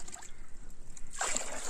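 Water poured onto plants, a quiet trickle that swells into a brief louder splashing gush near the end, heard close.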